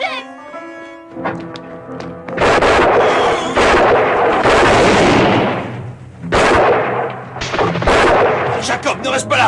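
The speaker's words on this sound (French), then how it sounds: "C'est mon Deringer qui a tiré." Several loud Derringer pistol shots in a western film, sharp bursts with echoing tails spread across the scene amid other background sound.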